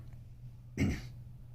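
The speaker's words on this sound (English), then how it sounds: "I've been having to clear my throat there for some reason." A single short, rough throat clearing close to the microphone, after a moment of quiet background hum.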